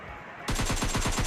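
Rapid automatic gunfire in the video game PUBG bursts in after a quiet rumbling lead-in, a loud, close string of evenly spaced shots firing in quick rhythm.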